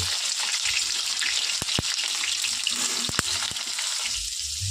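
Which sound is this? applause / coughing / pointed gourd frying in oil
pointed gourd frying in oil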